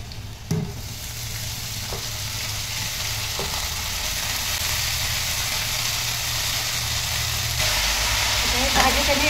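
Chopped fenugreek leaves fry in hot oil with garlic, sending up a continuous, close sizzle broken by occasional stirring scrapes in the pan. A voice is heard now and then over the frying.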